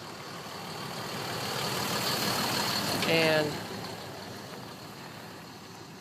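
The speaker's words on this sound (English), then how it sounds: "a pickup truck went by" A pickup truck drives past outdoors, its engine rumble swelling over a few seconds and peaking briefly before fading, with a brief spoken word near the start.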